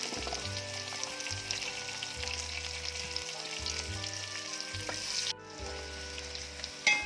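Onion and slit green chillies fry in a pan with a continuous crackling sizzle, while a low humming drone switches on and off in repeated intervals beneath it, and a brief clatter sounds near the end.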